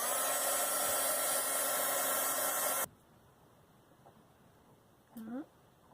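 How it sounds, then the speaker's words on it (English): A small heat gun blows a steady loud rushing hiss over a model horse to soften wax, cutting off abruptly midway, followed by quiet room tone and a brief voice. "I have a little heat gun here"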